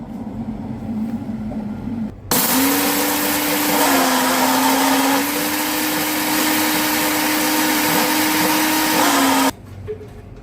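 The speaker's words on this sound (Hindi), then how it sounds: "अब हम लोगों ने इनको ग्राइंड कर लेना है।" An electric spice grinder whirs loudly and steadily for about seven seconds, grinding dry-roasted whole spices for chicken sajji, then cuts off abruptly.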